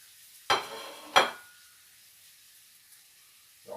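Chopped onion drops into hot oil in a pan and hisses, two sharp sizzling bursts in quick succession that quickly fade to quiet, then another starts just as the moment ends.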